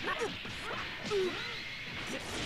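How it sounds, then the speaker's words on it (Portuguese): An explosion attack in the mobile fighting game Dragon Ball Legends bursts out as crashing, whooshing effects with swooping tonal sweeps, a dense continuous wash of loud game sound with no talk. "Explodiu todo mundo."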